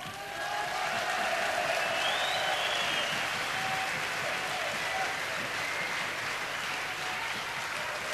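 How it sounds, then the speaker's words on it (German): A crowd at Jens Weißflog's 1996 farewell gala keeps up sustained, even applause with faint cheering mixed in, a dense wash of clapping lasting throughout. "das ist extra nochmal ein Beifall wert."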